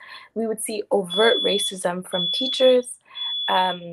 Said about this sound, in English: that's my smoke alarm.